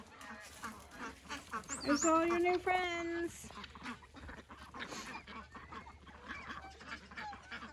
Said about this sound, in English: Here comes some ducklings.